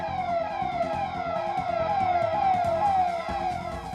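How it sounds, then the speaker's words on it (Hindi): Wailing civil siren sounded at 11 o'clock across Madhya Pradesh as a coronavirus pause signal, a steady rising and falling tone repeating continuously and loudly, with no voices. "वैसे तो ये सायरन एमपी की जनता के लिए है। ठीक 11 बजे बजता है"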